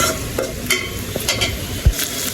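Steady sizzling and crackling of spice paste frying in a pan, with a few scraping stirs and a low thump near the end.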